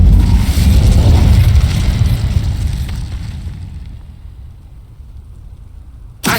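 The Incendio fire spell bursts out in the Hogwarts Legacy video game as a loud, booming whoosh of flame that swells for about two seconds and then fades into a dark rumble, with a sharp pop right at the end.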